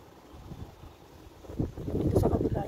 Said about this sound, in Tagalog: Lakas ng hangin. Umuugong.